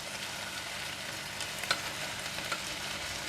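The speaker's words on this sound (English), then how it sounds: "Give it a mix." Tomato puree is stirred into frying macaroni in a pan, a steady sizzle with a couple of soft scraping stirs of the spoon, close and without talk.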